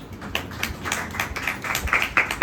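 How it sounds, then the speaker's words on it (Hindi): Scattered, light clapping from an audience at a devotional glorification gathering, sounding as a thin patter of uneven, sharp hand claps that continues steadily without building to full applause. "तो तालियों की आवाज बड़ी हल्की हो गई।"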